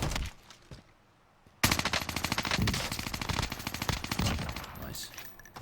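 Automatic weapon fire in the video game Warzone, a quiet lull then sustained rapid bursts of gunshots, loud and dense for several seconds with shots rattling in quick rhythm.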